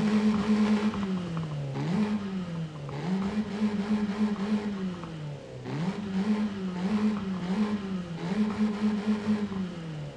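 A Mini John Cooper Works GP engine in Forza Horizon 5 fires up and settles into a steady, loud idle with rhythmic rises and dips in pitch from repeated light revs, running alone without speech.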